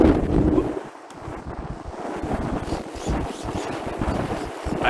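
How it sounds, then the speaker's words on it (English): Strong wind at a model airplane flying field, loud gusty rumble buffeting the microphone, rising and falling throughout with no clear voices. "And it's pretty windy."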